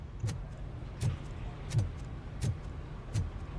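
A police cruiser in the video game RoboCop: Rogue City idles with a low, steady rumble, punctuated by regular sharp clicks about every 0.7 seconds.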